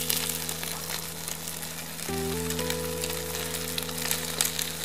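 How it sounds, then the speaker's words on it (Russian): Canned barley porridge heating in its can, giving a faint steady crackle and sizzle under a low hum with a few tonal whines, quiet and continuous with no talking. "вы слышите, как там все потрескивает?"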